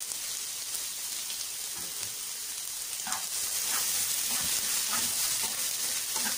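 Chopped onion sizzling steadily in a hot pan, a soft continuous hiss with faint crackles and a few small stirring clicks, fairly quiet and with no talking.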